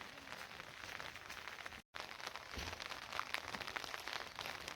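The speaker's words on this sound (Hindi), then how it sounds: "और चूँकि बारिश हो रही है तो ऊपर नहीं जा पाएंगे" Steady rain falls in a foggy mountain village, a soft constant hiss of drops with a brief break, quiet and even throughout.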